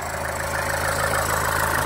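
A 2013 Nissan Sunny XL diesel sits idling, its engine a steady, even low drone with a faint rapid clatter, close and constant from start to finish.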